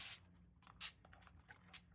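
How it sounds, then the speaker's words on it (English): A spray bottle spritzes a sheet of printer copy paper laid over bleeding tissue paper, giving two short, close hissing bursts separated by a quiet gap, with faint handling noise between them. "Now I am going to spritz it twice."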